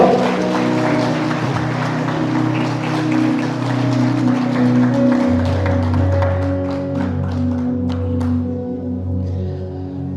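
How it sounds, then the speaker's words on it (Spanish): Congregation applauding inside a church, steady dense clapping under sustained organ or keyboard tones, fading near the end. "Denle fuerte aplauso al Señor."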